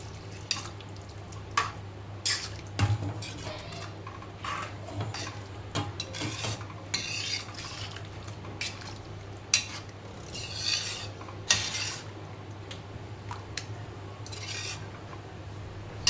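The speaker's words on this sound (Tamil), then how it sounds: "இப்போ நம்ம தேங்காய் பால் ஊற்றிக்கலாம்." Coconut milk poured into a simmering pot of karuvadu kulambu and stirred, with close scraping, clinking and light dripping against a faint steady hum.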